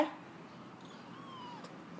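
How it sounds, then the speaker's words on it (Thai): A hungry orphaned kitten meows softly in thin, rising cries, close by in a quiet room, a couple of faint calls spread over a couple of seconds. "ลูกแมวร้อง ร้องหิวข้าว"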